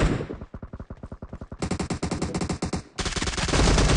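Rapid gunfire from a PUBG Mobile match, with dense bursts of automatic shots in quick succession, loud and close, continuing in several rolling volleys across the whole stretch.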